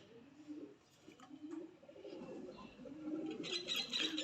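A domestic pigeon coos softly and close by in low, repeated murmurs, with brighter chirps from other birds rising near the end.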